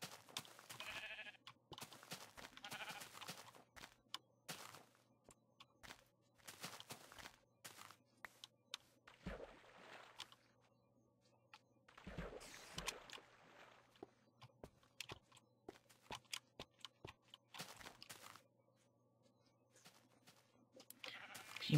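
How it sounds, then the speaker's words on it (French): A sheep bleats several times at a distance in a quiet outdoor setting, faint cries scattered among soft footsteps and rustling, with no talk. "c'était un mouton"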